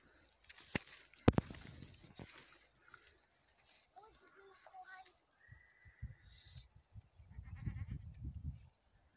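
Goat on a high-mountain ranch bleating in short, moderately close calls, mixed with footsteps and brief talk as someone approaches slowly, with outdoor ambience throughout.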